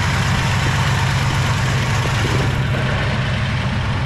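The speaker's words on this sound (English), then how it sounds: "Engine runs super healthy" A 1968 Chevelle SS big-block V8 idles steadily with a deep, lumpy rumble, close and loud, with no voices.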